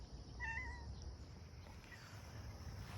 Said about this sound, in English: there's our little outdoor kitty, Lucky